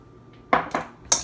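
Beans tipped into a spinach salad bowl, heard as three quick hard clacks and clatters against the bowl in a quiet kitchen.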